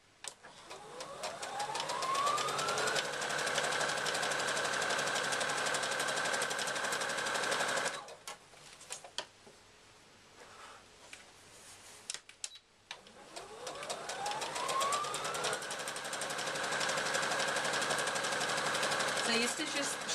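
A sewing machine stitches and backstitches a seam on a reversible handbag with a loud, steady mechanical whir that runs up to full speed. It stops briefly in the middle, then starts again for a second long run.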